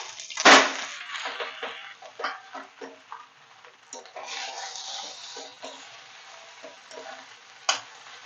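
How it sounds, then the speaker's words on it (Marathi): Cooked rice is stirred into a pan of crackling cumin over low flame for jeera rice, giving close sizzling with scraping spoon strokes and a few louder knocks against the pan. "जिरं चांगलं तडतडलं की नंतर आपण यात शिजलेला भात टाकून घ्यायचा आहे."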